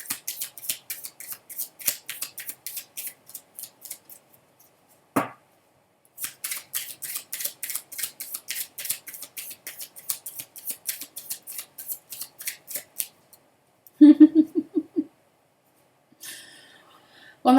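Tarot cards shuffled by hand in quick, crisp riffling bursts, a steady run of rapid flicks with a short pause, then a few soft low thumps near the end, close and fairly loud with no talking.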